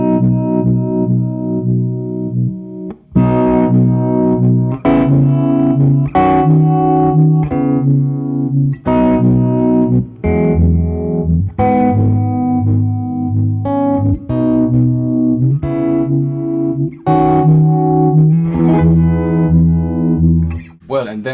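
Electric guitar chords played through a JAM Pedals Harmonious Monk MK2 harmonic tremolo, each chord swelling and pulsing so the louder part arrives after the attack; rich, sustained and up close, one chord flowing into the next.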